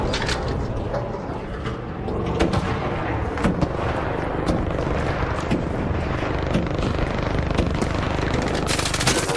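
Missiles and heavy gunfire from the ARC Raiders video game pound away nonstop: dense rattling bursts, booms and blasts layered into one loud, continuous barrage.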